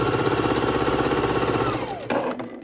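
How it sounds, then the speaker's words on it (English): A sewing machine runs steadily and close up, stitching together one side of a quilt's nine-patch block made from 10-inch squares, its rapid mechanical chatter continuous before slowing and stopping near the end. "we're sewing this side of our 9 patch together"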